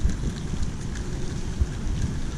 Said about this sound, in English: There's a storm coming.